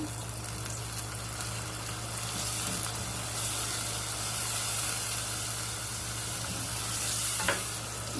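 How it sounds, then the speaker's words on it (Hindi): A splash of water hits a hot pan of spices with coriander powder and turmeric, setting off a steady, close sizzle that swells briefly near the end, with no voices. "इसमें डालेंगे हम थोड़ा सा पानी।"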